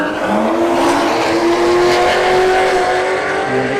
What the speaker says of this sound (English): And the A90 Supra here in the left lane. And the C6 takes the win at 130 miles an hour.